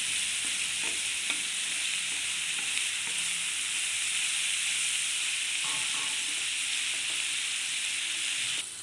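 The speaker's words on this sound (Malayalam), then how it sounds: "നന്നായിട്ടൊന്ന് ഇളക്കി കൊടുക്കാം" Bitter gourd fries in oil in a pan for pickle, a steady close sizzle and hiss running throughout, with soft stirring scrapes now and then and no talk.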